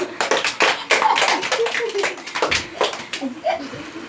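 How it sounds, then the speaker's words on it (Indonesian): Third-grade pupils and their teacher clap together in a classroom, a run of quick, close claps overlapping with children's voices. "beri tepuk tangan untuk kita semua"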